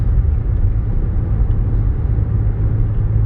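Tire noise from a 2011 Nissan Rogue SV AWD on the road, a loud steady low rumble and road roar heard from inside the cabin, constant throughout with no voices.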